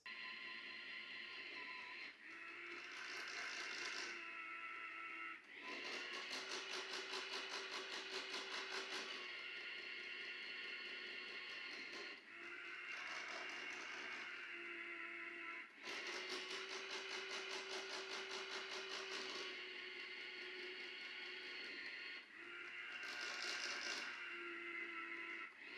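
An iRobot Roomba Combo 10 Max dock washing its mop pad makes a whirring, buzzing mechanical drone. The drone cycles on and off in several bursts a few seconds long, with quieter humming pauses between them.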